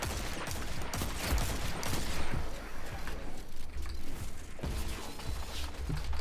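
Rapid gunfire from a gun in Destiny 2 gameplay, a dense continuous barrage of shots with mechanical clatter and game effects throughout, loud and steady.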